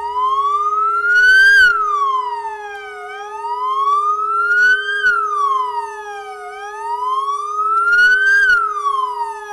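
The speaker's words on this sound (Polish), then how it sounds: "o godzinie 17 zawyły syreny upamiętniające tzw. godzinę W" A loud memorial siren marking the Warsaw Uprising anniversary at 5 p.m. wails steadily, rising and falling in slow, regular sweeps about every three seconds, with no voices over it.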